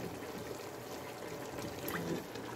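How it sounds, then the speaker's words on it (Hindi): Cooking oil, about two spoonfuls, pours into a pot of beef for namkeen gosht as the water cooks off, giving a steady close trickle with a faint splashy swell near the end. "अब हम कुकिंग ऑयल डालेंगे और इसको अच्छी तरह भूनेंगे"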